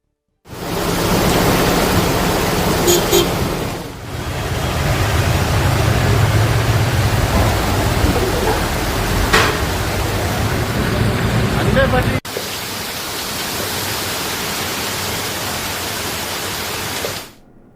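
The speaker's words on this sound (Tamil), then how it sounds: "புதாத் பகுதியில் பெய்து வரும் கனமழை காரணமாக வீதிகளில் மழைநீர் ஆறு போல் பெருக்கெடுத்து ஓடியது" Heavy rain pours down and floodwater rushes through city streets, a dense, steady roar with little variation that stays loud throughout and drops slightly in level partway through.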